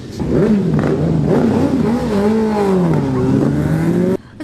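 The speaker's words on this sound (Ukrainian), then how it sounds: "байкери колоною у супроводі поліції проїдуть ще понад 28 кілометрів" Column of motorcycles riding past together under police escort at a biker season-closing ride in Vinnytsia, a loud continuous engine drone with rising and falling revs, close by, cutting off abruptly near the end.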